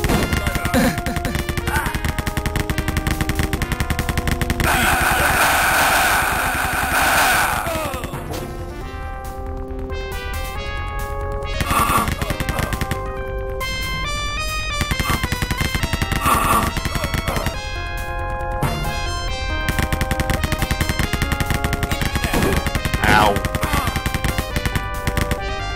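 Rapid gunfire from the shooter game Rise of the Triad fills the scene loud and continuous, with bursts of shots, crashing impacts and electronic game tones layered over constant music.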